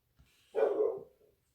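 A single dog gives one short, muffled bark from near a back door in a quiet room, faint and somewhat distant, with no one speaking.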